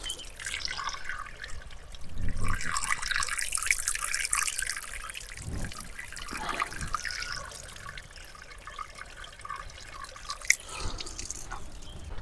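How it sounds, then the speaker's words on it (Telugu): Pure spring water trickles steadily out from between rocks at an Araku camping spot, a continuous close splashing and dripping with small irregular splashes and no talk. "చాలా ప్యూర్ వాటర్ ఇది. ఆ లోపల రాళ్ళలో నుంచి వస్తుంది కదా."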